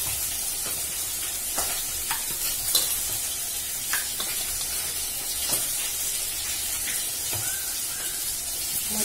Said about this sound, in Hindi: ये देखो मच्छी फ्राई हो गया, अभी इसको निकाल दूंगी।